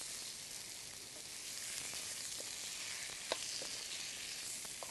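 Squid stir-frying in XO sauce gives a steady close sizzle and frying hiss lasting throughout, broken by a few faint clicks of stirring, with no voices.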